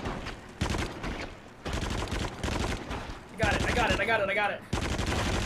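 Rapid bursts of gunfire from the VR shooter game Until Dawn: Rush of Blood, repeated shots and fusillades running through most of the clip, loud and close, with a player talking briefly over them.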